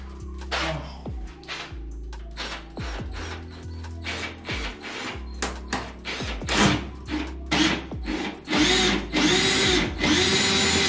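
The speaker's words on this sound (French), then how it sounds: "Je suis pas sûr que j'arrive à visser au travers de la structure avec les vis bois que j'ai là." A power screwdriver drives wood screws into a metal stud frame during a bathroom partition renovation. It whirs loud and close in several short bursts, with ratcheting clicks, quiet pauses between them, and a longer high-pitched run of driving near the end.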